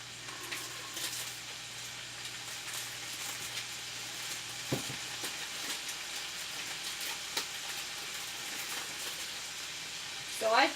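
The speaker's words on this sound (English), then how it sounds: "Let's get to listen to it sizzle." Food fries in a big pan with a steady, dense sizzle that holds throughout, broken by a few soft clinks and a brief louder crackle near the end.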